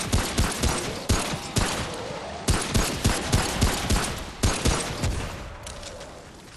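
Repeated gunshots ring out in Remnant: From the Ashes, a steady series of loud, sharp bangs spaced about half a second apart, with a brief pause midway before the firing resumes.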